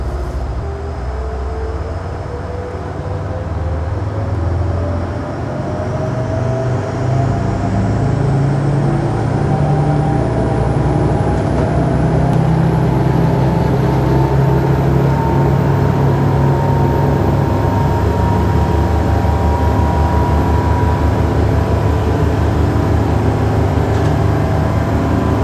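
Twin boat engines, Volvo Penta IPS on a Cruisers Yachts Cantius 42, roar steadily and loudly, their pitch climbing gradually as they accelerate onto plane, with a constant rushing wash underneath and no talking.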